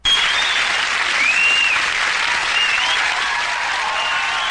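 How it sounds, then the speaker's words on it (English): An audience applauds at a live morning talk show: steady, loud, dense clapping from a crowd that starts abruptly and continues throughout. "You don't clap for me that way"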